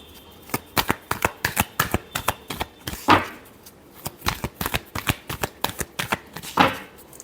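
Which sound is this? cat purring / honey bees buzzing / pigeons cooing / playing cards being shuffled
playing cards being shuffled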